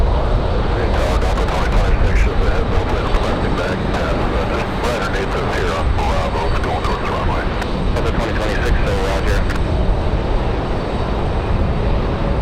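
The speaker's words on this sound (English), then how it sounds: "We've got a Delta CRJ on the move." A Delta CRJ regional jet moves at Raleigh-Durham International Airport on a windy day, a broad, steady roar of jet engines with gusty wind noise, heard from a distance under ongoing talk.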